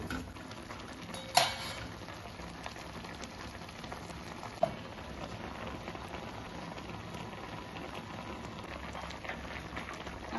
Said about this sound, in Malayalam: അപ്പൊ ഇതൊക്കെ ഇങ്ങനെ തിളച്ച് വന്നുട്ടാ.